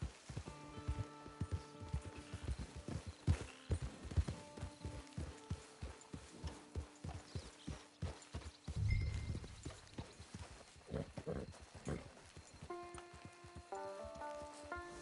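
Hooves clip-clopping at a walking pace on hard ground in the video game Red Dead Redemption 2 Online, with a horse snorting midway and soft tonal music in the background.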